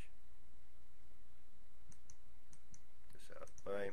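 Several sharp computer mouse clicks come in a loose cluster partway through during Windows 7 firewall setup, quiet and close, with a voice briefly heard near the end.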